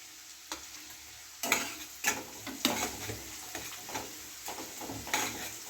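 Chopped green chillies dropped into onions frying in a pan for masoor dal, heard as a soft sizzle with a few sharp stirring scrapes and taps at a close distance, fairly quiet and without talking.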